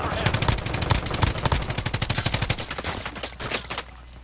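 Gunfire in the video game Squad, rapid automatic bursts of machine-gun shots rattling in dense, steady strings, loud and close, fading toward the end with a final short burst.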